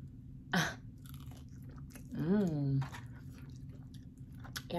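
Crunchy chewing and biting of crispy fried chicken breast, served with macaroni and cheese, in a few close, moist bites with a voice talking briefly over them.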